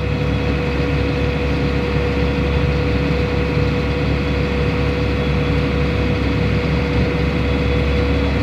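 A John Deere 7920 tractor engine drones steadily while driving, a loud, even low hum with a constant tonal whine and no breaks.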